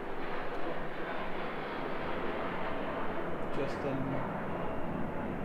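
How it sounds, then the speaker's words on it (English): An F-16 jet fighter flying past, heard as a broad continuous roar that holds steady for the whole stretch, loud and close. A voice speaks briefly over the jet noise. "F-16 jet fighter passing by"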